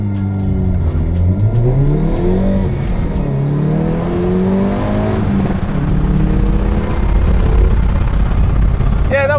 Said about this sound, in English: time to see what the i30N feels like 0 to 100